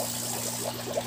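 An aquarium airstone bubbling water in a crayfish tank, giving a steady, close trickling and fizzing wash of bubbles with no pauses.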